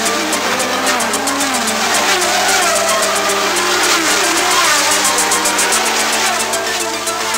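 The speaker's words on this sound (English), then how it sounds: "With the throttle down, they'll scream along the straightaways at 190 miles per hour." Formula One race cars scream at high revs along the Long Beach street-circuit straightaway, a loud, sustained engine wail with rapid repeated pulses as cars pass close by.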